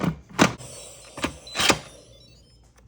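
Several short clicks and clunks from a pressure cooker lid being set in place and locked, with four distinct mechanical thumps spread over a few seconds and quiet room tone between them. A one-pot spinach and kale lentil daal is inside.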